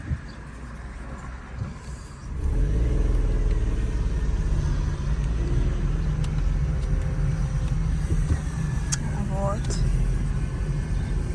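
A car engine heard from close by, quiet for about two seconds and then a steady, loud low rumble that holds for the rest of the clip as the car drives closer through a residential area.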